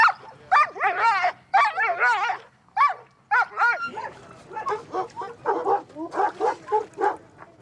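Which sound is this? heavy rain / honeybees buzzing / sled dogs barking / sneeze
sled dogs barking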